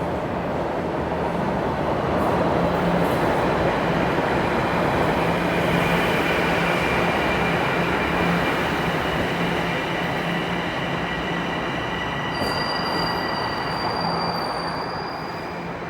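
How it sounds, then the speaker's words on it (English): A southbound Toronto subway train rolls into Yorkdale station with a loud, continuous rumble that swells and holds for most of the time, then fades slightly, a thin high wheel squeal rising near the end. "There goes the southbound train into the station."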